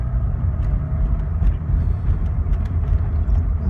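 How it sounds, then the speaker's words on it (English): A 1985 BMW 318i with an aftermarket ENSA exhaust burbles low while driving. The steady rumble is heard from inside the car, with road noise and no talking. "Got the ENSA exhaust there, so that makes a nice burble"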